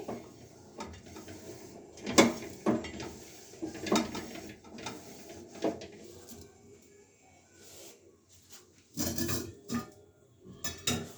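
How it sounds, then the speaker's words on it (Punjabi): Metal kadai being wiped and handled clean and dry before tempering, with irregular clanks and scrapes of the wok and utensils close by, separated by quiet gaps, with no one talking. "ਸਭ ਤੋਂ ਪਹਿਲਾਂ ਅਸੀਂ ਆਪਣੀ ਕੜਾਈ ਸਾਫ਼ ਕਰ ਲਾਂਗੇ ਬਹੁਤ ਚੰਗੇ ਤਰੀਕੇ ਤਾਂ ਜੋ ਵਿੱਚ ਪਾਣੀ ਨਾ ਰਵੇ"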